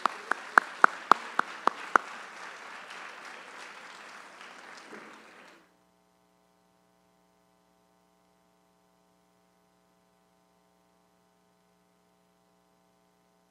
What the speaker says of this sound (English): let's please give them the round of applause and the honor they deserve